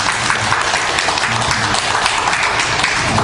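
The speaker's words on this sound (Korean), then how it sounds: "우리 큰 박수 한번 보내주십시오" Loud, steady applause from a church congregation during a Sunday service, dense clapping continuing evenly from start to finish.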